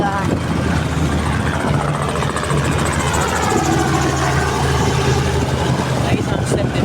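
A helicopter over a river fluvial parade at a festival, a steady, loud droning rotor and engine hum with a low pulsing throb that continues under people talking and crowd noise.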